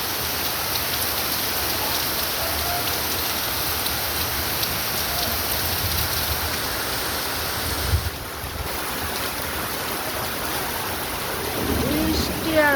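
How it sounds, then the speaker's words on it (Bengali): A downpour hammers Dhaka in a thick, unbroken hiss of rain on surfaces, with gusts of wind. It dips briefly midway, then swells again near the end. "আজকেও ঢাকায় অনেক বৃষ্টি হইতাছে। দেখেন কি পরিমাণের বৃষ্টি।"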